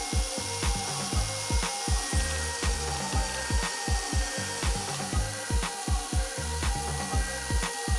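A screw driven diagonally into the wooden base of a cat tree, a steady run of rhythmic ratcheting clicks and creaks, close and clear, repeating evenly throughout.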